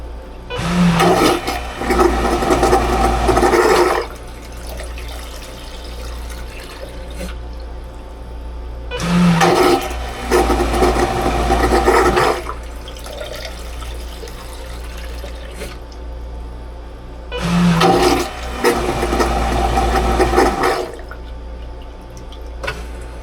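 A Raritan Quiet Flush marine toilet on a Silverton 42C boat flushes three times, each a loud rushing burst of water and pump noise lasting a few seconds, separated by quieter gaps.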